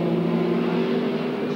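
Sports sedan race engines, a Porsche and a big Holden Monaro, drone steadily at Amaroo Park in 1984, a loud sustained harmonic roar with no pause across the short stretch.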